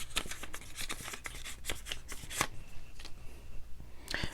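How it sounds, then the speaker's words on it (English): Stiff Blu-ray art cards are handled and shuffled close up, a rapid series of crisp slaps and flicks in an uneven rhythm, with no talking. "So let's check out these art cards."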